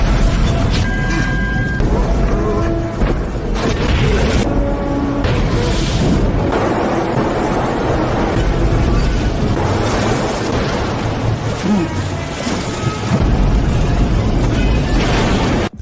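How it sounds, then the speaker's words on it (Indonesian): A big cinematic explosion destroys a bridge and a car in an action film, a loud, dense roaring blast sustained through the whole stretch with rumbling debris and score-like layers and no pause. "ledakan besar menghancurkan jembatan tepat ketika Ray hampir mencapai bahan peledak terakhir"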